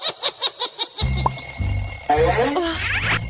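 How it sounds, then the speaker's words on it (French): An alarm clock rings in short, regular loud bursts for about a second, then stops as louder voices and bright chimes take over. "Oh, le réveil sonne"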